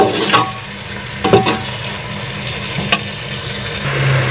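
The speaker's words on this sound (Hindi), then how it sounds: "अब इनकी फिर मज़ीद भुनाई करेंगे। आंच को तेज रखना है, अच्छे से भुनाई करनी है।" Beef stir-fried over high heat for yakhni pulao, a loud steady sizzle from a close pot, marked by a few sharp stirring scrapes and no talking.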